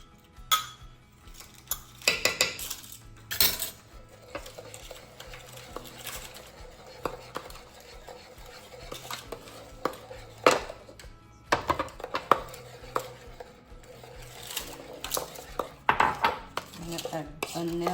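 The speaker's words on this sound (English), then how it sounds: "I have 3 eggs and I'll whisk my eggs." Three eggs whisked in a bowl for zucchini cranberry muffins, rapid clinking and tapping of a whisk against the bowl with brief pauses, close and fairly loud, no voices.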